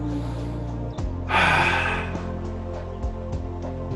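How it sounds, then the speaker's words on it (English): A deep breath in during a breathwork exercise, one long forceful inhale of about a second, close and clear over a steady background hum. "Six more of the biggest breaths that you've ever taken on the inhale."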